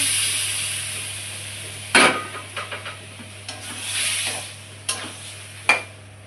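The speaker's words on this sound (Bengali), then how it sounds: "ভালো করে নেড়ে চেড়ে নেবো" Peas are stirred in a frying pan for matar puri, a spoon scraping and knocking against the pan in a few uneven strokes over a faint low hum, with no talking.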